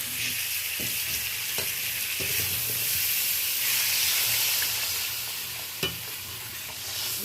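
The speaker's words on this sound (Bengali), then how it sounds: "এবার আমি জলটা অ্যাড করে দেবো।" Mango frying with tempering spices as water is poured into the pan for chutney: a continuous hissing sizzle with steam and a few sharp scraping clinks from stirring.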